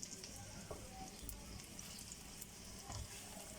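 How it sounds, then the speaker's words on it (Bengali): Patishapta pitha frying in a little oil in a pan, a steady close sizzle and crackle running throughout with a few faint scrapes as the cake is turned. "এপিট ওপিট উল্টে একটু ভাজার জন্য।"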